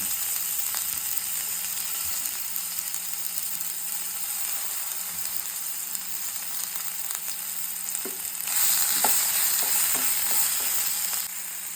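Chopped capsicum stir-fries in a hot pan for a vegetarian Korean ramen bowl, giving a continuous close sizzle broken by occasional scraping and clicking from stirring, which grows slightly louder toward the end.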